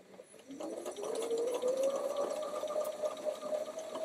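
A domestic sewing machine stitches a quilt block, running steadily with a rising whirring hum that settles into one sustained, fairly close stitching drone for several seconds, with no talk over it.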